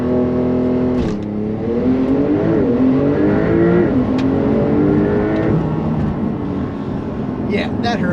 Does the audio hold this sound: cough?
no